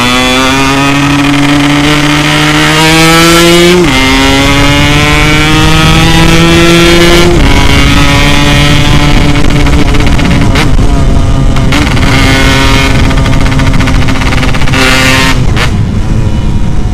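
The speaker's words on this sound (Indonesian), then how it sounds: "Wah, suaranya gede banget anjir. Tapi menurut gua ini knalpot cocok di motor gua ya." A Yamaha RX-King motorcycle fitted with an aftermarket 'setengah dewa' exhaust revs loud and close, its pitch climbing in several stepped pulls before settling into a sustained high drone.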